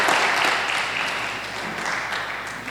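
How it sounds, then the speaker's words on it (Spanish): A church congregation gives a round of applause, dense steady clapping from many people in a reverberant hall, loudest at the start and easing slightly over a few seconds. "Denle un gran aplauso al Señor"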